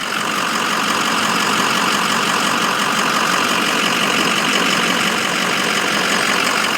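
A 2005 Ford F250 King Ranch Lariat pickup truck idles on a hot Tucson day, a steady, even rumble with broadband hiss that holds constant and close throughout, with no voices.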